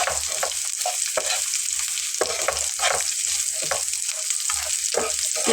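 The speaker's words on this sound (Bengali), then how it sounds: "পেঁয়াজটাকে মশলাটার সঙ্গে 5 মিনিটের মতো করে একটু ভেজে নেব" Chopped onion frying with spices in a pan for a healthy Bengali breakfast snack, a steady close sizzle with repeated stirring scrapes and clinks throughout, no voices.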